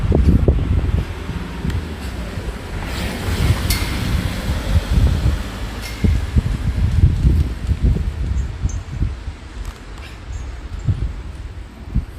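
Gusty wind buffets a drone's microphone in uneven low rumbling surges in Sint-Niklaas, Belgium, with rustling in the background; no voices are heard.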